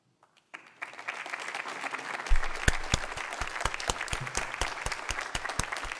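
Crowd applause and cheering greet presidential debate candidates, the Republican nominee and Democratic nominee Vice President Biden, swelling after a quiet start into steady loud clapping with sharp individual claps standing out.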